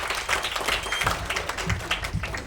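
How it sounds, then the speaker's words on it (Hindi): Applause and clapping from an audience at an All India artist association award function, welcoming a guest; dense, sustained clapping with sharp taps throughout. "अनूप सर के लिए एक बार जोरदार तालियां।"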